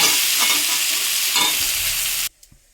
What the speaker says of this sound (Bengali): আর তেলের মধ্যে জিরা ফোড়ন দিয়ে দিয়েছি